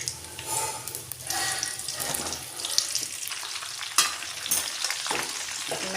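Raw mango pieces fry in hot oil tempered with bay leaf, dried red chilli and five-spice, a close crackling sizzle broken by scraping stirs and occasional sharp knocks of a spoon against the pan.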